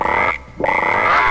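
Two loud, buzzy frog croaks from the video game Wrath of the Dead Rabbit sound close up, separated by a short gap of near silence.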